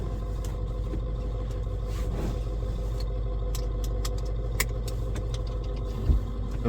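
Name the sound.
diesel pickup truck engine idling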